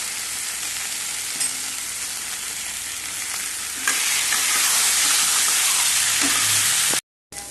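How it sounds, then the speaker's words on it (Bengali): Egg sizzling steadily in a hot frying pan while being stirred, with scraping touches of the utensil, loud and close, cutting off briefly near the end. "ডিমটা একটু নাড়াচাড়া দিয়ে এবার এর মধ্যে চই দিয়ে দেব।"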